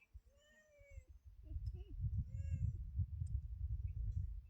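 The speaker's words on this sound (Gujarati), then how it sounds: "મ્યાઉ." A cat near a village farm plot meows several times, clear drawn-out mews spread across the stretch over a low background rumble.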